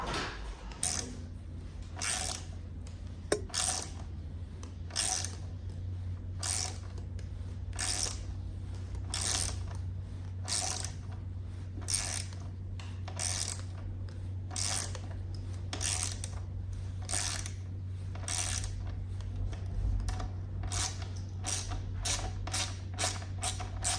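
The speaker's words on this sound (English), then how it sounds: "Once it's loose enough, you can actually just detach the ratchet and start to undo it by hand" Close, steady ratchet clicking from a hand ratchet undoing a Torx bolt on a BMW R NineT motorcycle, with rapid rhythmic bursts repeating throughout over a low background hum, no talking.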